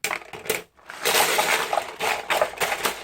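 A jumble of small plastic robot-kit bricks clattering and rattling as they are poured out of a plastic bag, with a short pause before another long cascading rush.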